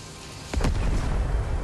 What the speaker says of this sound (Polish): A ciekawe, jak rzucę granatem, stanę bokiem do wybuchu.